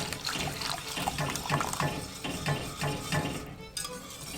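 Milk pours into a beer and butter roux in a pan, a close, steady liquid splashing and gurgling stream lasting a few seconds with small bubbling pops, no talking.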